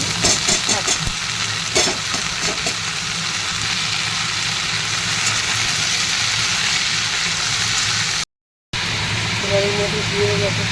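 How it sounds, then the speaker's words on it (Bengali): Potatoes frying in hot oil in a home kitchen, a continuous close sizzle with a few clattering stirs early on, someone talking over it at times and a brief dropout near the end. "আলুগুলো ভাজা ভাজা হয়ে গেছে"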